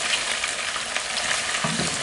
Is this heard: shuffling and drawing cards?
no